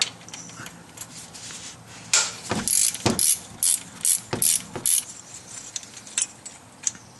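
Ratchet with a 16mm socket working the idler pulley bolt on a 2008 Dodge Avenger engine, a close burst of quick metallic clicking strokes in the middle, fading to scattered ticks.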